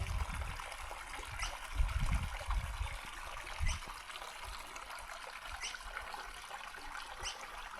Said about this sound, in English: Been riding alongside this creek for quite a while